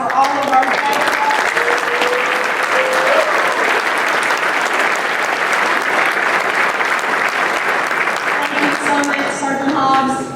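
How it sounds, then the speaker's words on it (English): A large audience applauds graduates at an Air Force class graduation ceremony, with dense, sustained clapping that runs steadily throughout and begins to thin out at the very end. "Can I get one more round of applause for all of our graduates?"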